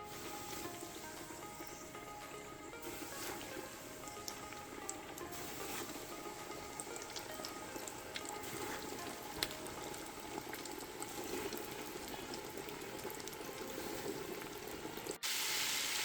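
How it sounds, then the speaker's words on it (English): Halibut deep frying in hot oil: a steady, dense bubbling and crackle that runs unbroken, close by, with no talking. "All right, so these have been frying for about 3 minutes."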